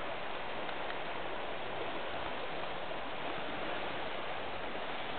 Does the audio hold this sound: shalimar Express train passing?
no